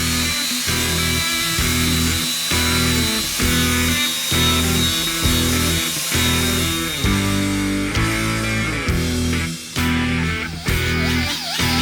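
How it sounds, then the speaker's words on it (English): Die grinder fitted with a Scotch-Brite disc working over small parts of a BMW R80 motorcycle, such as levers, foot peg mounts and side stand, a loud continuous whine in repeated strokes with slight pitch changes. "I finished grinding all of the small parts, shift lever, brake lever, the foot peg mounts for rider and passenger, and also the side stand."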